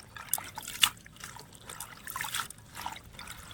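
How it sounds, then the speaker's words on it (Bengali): Spinach leaves washed by hand in water, giving close trickling, dripping and sloshing splashes in irregular bursts with no voices over them. "এবার একটু পালং শাকগুলোকে ভালো করে ধুয়ে নেব।"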